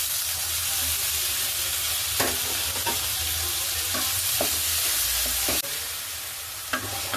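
Tomatoes fry and sizzle in hot oil in a pan with fennel seeds, fenugreek, onion, curry leaves and garlic, a steady loud hiss broken by repeated scraping strokes of a stirring spoon.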